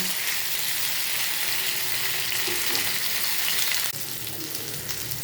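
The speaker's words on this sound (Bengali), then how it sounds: "এবার এটাকে এইভাবে ভাজতে থাকবো।" Jackfruit pieces and potatoes frying in a pan for a vegetarian curry, a dense close sizzle that holds steady, then drops slightly quieter partway through while continuing.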